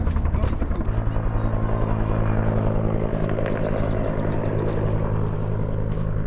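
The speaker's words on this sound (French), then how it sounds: "donc l'hélicoptère a déposé une grosse boîte" A helicopter roars loud and steady nearby in the Grand Canyon on the Bright Angel Trail, its rotor thumping beneath a broadband rumble, with voices partly audible under the noise.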